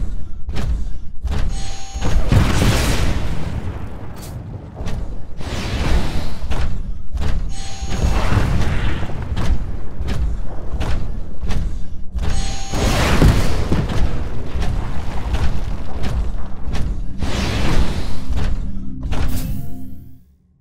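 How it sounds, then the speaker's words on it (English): Rockets explode around a Titan in a Titanfall training hallway, a rapid series of heavy booms and thuds landing every second or so, loud and close, with a mechanical rumble between blasts. "Move down the hallway while avoiding the rockets."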